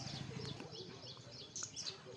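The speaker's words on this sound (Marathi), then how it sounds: "पक्ष्याचा आवाज पण एवढा सुंदर येतोय ना, ऐका तुम्ही" Sparrows and other birds chirping in a mango tree in a village, faint, scattered tweets in the distance over soft outdoor background noise.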